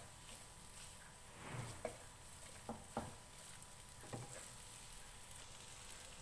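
Spaghetti stirred into a chicken sauce in a hot pan, a steady faint sizzle with a few soft scraping and squishing strokes as the pasta is mixed, close by with no talk.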